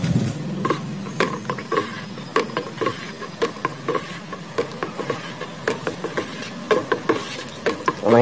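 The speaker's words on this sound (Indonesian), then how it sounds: "Kemudian kita akan aduk ya." Liquid detergent mixture being stirred after citron is poured in, giving a steady run of small clinks and taps from the stirrer against the container, close and fairly quiet.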